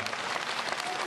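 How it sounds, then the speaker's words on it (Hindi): Crowd at a political rally applauding steadily, a dense even wash of clapping that fills the whole moment without pause. "आगे से लेकर पीछे तक हाथ उठाकर तालियां बजाकर एक बार इन्हें अपना समर्थन दे दीजिए।"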